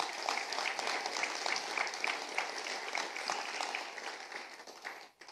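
A church congregation claps steadily together, a dense, even wash of applause that holds for about five seconds, then thins and fades out at the end.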